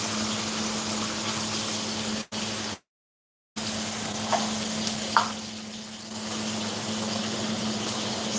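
Tilapia frying in a pan while being stirred, a steady hiss and sizzle of hot oil throughout, broken by a short dropout and a few scraping clicks of the utensil.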